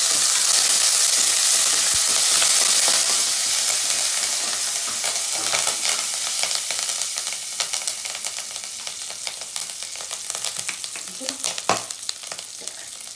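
Curry leaves frying in hot oil in a pan, starting as a loud, bright crackling sizzle that gradually settles, with a few sharp pops and stirring clinks, no speech.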